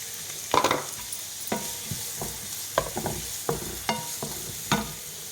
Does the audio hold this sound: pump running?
no